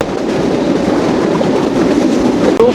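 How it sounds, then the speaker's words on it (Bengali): The Rupsha Express passenger train in Bangladesh, near Jhenaidah, races along at about 80 to 90 km/h with a loud, dense rumble and rattling wheels heard from on board, continuous and without voices. "রূপসা এক্সপ্রেস ট্রেনের গতি উঠে গেল ঘন্টায় 80, 85 বা 90"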